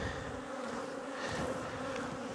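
Honey bees swarm around an open, agitated hive, producing a dense, continuous droning buzz up close that holds steady throughout with no voices.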